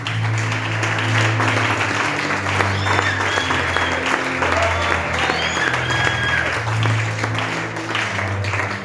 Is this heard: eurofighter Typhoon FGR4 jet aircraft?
no